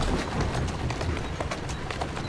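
In the video game Assassin's Creed Syndicate, hooves clip-clop in a quick, steady rhythm over a broad rushing noise, a horse moving briskly at close range.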